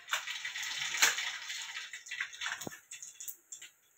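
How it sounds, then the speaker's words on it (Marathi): Mustard seeds drop into hot oil in a pan and set off a close, faint crackling sizzle with scattered small pops, with no voices. "तेल गरम होऊन गेलं. 1 चमच मोहरी टाकून घेते."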